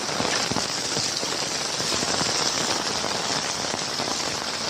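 Heavy monsoon rain pours steadily in Kalyan, a dense continuous hiss of drops drumming on surfaces, loud and close throughout with no voices.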